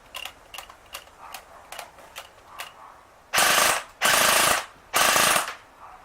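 An airsoft AK rifle with a tappet plate problem fires three loud full-auto bursts, each about half a second long, after a run of quieter mechanical clicks from the gun.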